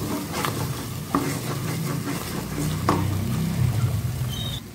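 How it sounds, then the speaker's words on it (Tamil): Masala sautéing and being stirred in a pan over a low flame for a chapathi kurma, with a steady soft sizzle under repeated scraping stirs and occasional sharp clicks of the spoon against the pan, close and moderately loud. "இப்போ இந்த மசாலாவை கொஞ்சம் நேரம் நல்லா வதக்கிக்கலாம்"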